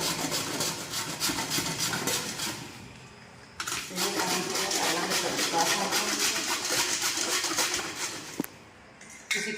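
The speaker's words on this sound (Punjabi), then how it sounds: "ਆਪਾਂ ਨੂੰ ਕੱਦੂ ਕੱਦੂਕਸ ਕਰ ਲੈਣਾ" Pumpkin is grated by hand on a grater with fast, repetitive rasping strokes up close, briefly pausing once midway before the steady scraping resumes.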